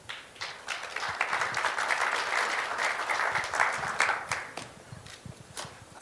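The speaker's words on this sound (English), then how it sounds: "Please give him a big round of applause." Applause at a nuclear policy forum greets a speaker: a moderate round of clapping from the audience, somewhat sparse with individual claps standing out, rising and falling over about six seconds.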